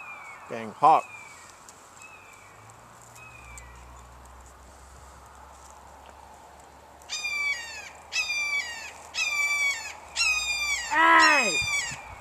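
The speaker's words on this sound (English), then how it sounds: "Dang hawk." A hawk calls repeatedly outdoors during a quiet coffee break, sharp descending screeches in quick bursts, loud and close in the second half, after an earlier scattered squawk and a low rumble.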